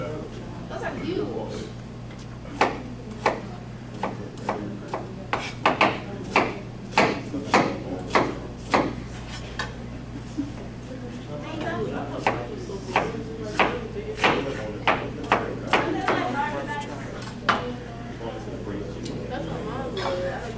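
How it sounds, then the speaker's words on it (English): A knife rough-chops large onions into a medium dice on a cutting board for a braised chicken dish, a steady series of crisp, close knocks that comes in bursts under ongoing talk. "I'm just rough chopping some medium diced onion"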